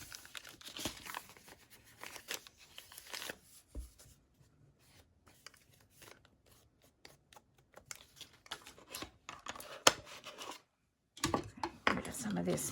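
Sheets of paper are scrunched, crinkled and torn at close range in a quiet craft room, with bursts of rustling between short pauses.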